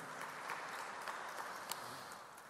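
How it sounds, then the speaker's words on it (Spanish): Steady audience applause at a Chilean constitutional forum on parity democracy, a broad, even wash of many hands clapping at moderate distance with no speech over it. "Un aplauso para el saludo."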